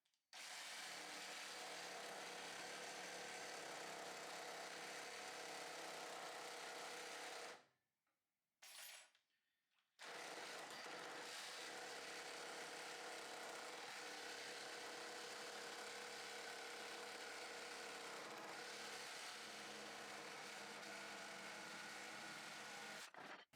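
An Evolution R150RCP-Li cordless reciprocating saw fitted with an aggressive, re-set Bosch blade cuts steadily and loudly, stops briefly for a short burst, then resumes a long continuous cut.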